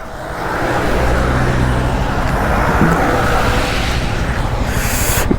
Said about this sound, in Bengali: ফোর হুইলার সব একের পর এক যাচ্ছে।